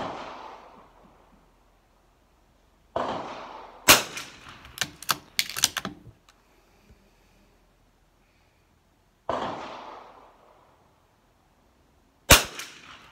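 A Lakefield 91TR rimfire rifle fires at a range: sharp, close cracks with quick-decaying tails, spaced seconds apart, plus a cluster of lighter metallic clicks and handling noises between shots, with no talk.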